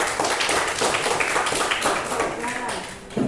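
A class of students claps for a group in an online-business lesson, a dense patter of many hands heard close, blending with voices chattering underneath before fading.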